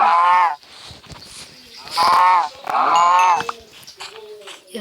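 Cows moo in a video game, several loud drawn-out lowing calls separated by short gaps, close by, with a voice speaking briefly between them.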